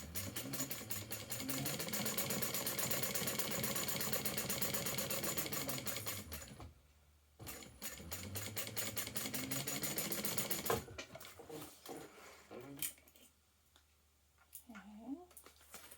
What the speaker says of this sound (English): I'm just going to stitch it down the same way.